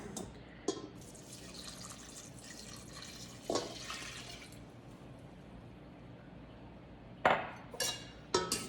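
Warm water is poured into a sourdough starter in a kitchen, a soft, quiet trickle with occasional drips and light clinks against the container, a few louder splashes near the end.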